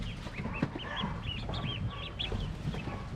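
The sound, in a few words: Pekin ducks in wooden cage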